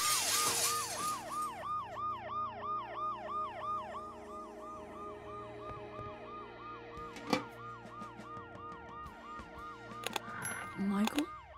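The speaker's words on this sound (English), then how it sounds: "The noise the ambulance makes will cover the sound of the glass breaking." Wailing ambulance siren in the point-and-click adventure game Dead Synchronicity: Tomorrow Comes Today, a steady rising-and-falling two-tone wail sounding loud and continuous for most of the stretch, with a short thud and clatter near the end.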